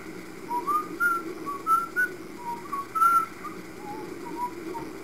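Someone whistles a slow, wavering tune of short, clear notes, thin and fairly quiet, with no talking, in the video game Duke Nukem Advance.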